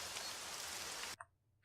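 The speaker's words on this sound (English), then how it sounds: "I like the rain sound effect sometimes, but it is loud" Loud, dense hiss of rain from the TerraFirmaCraft game falls steadily, then cuts off abruptly to near silence with a few faint blips.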